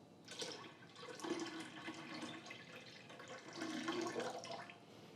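Water being poured or run from a tap while making a purple fruit punch drink with lemon juice, a continuous hissing splashing flow that swells twice, with no talking.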